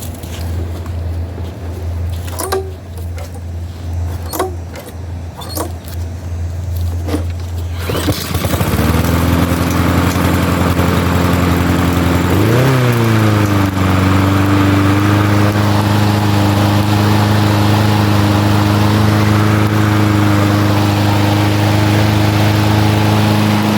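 A Troy-Bilt lawn mower with a choke fires up after a few sharp pulls on the cord, then roars into a loud steady running drone, rising briefly in pitch before settling into an even engine hum.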